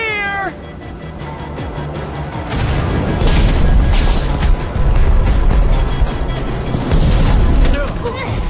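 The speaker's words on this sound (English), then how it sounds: "Fireworks!" Fireworks burst in the Minecraft: Story Mode video game, loud rumbling explosions and crackling that fill the scene after a brief cat-like meow at the start, with a dense game soundtrack underneath.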